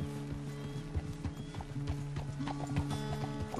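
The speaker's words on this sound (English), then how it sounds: "The horse can feel your fear." Horse hooves clip-clop steadily on the ground in the video game Red Dead Redemption 2, a moderately quiet, even rhythm with a faint whinny-like tone mixed in.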